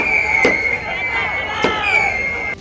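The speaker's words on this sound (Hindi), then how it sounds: "वहीं आतिशबाजी कर रहे कुछ लोगों ने इस दौरान रॉकेट भी जलाए।" Firework rockets are set off at a street celebration, two sharp bangs about a second apart over a loud, steady background of crowd noise and music.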